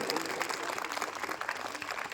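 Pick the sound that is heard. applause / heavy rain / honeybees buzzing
applause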